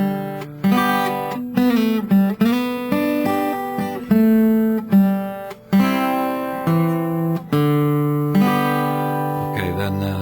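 Guitar playing the opening phrase of a gospel-style Amazing Grace solo, a slow melodic line of ringing, sliding notes over sustained bass, clear and close with no talking.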